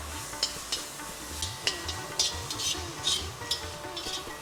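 Carrots and beans frying in a pan with garlic and ginger paste, a steady close sizzle broken by repeated scraping and stirring scrapes of a spoon against the pan.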